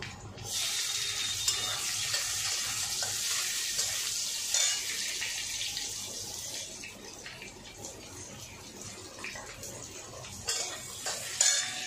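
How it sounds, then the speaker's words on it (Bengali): Onions hiss and sizzle in a pan, a continuous bright frying noise with occasional stirring clatter and utensil taps nearby. "এবার আমি পেঁয়াজগুলো দিয়ে দেবো"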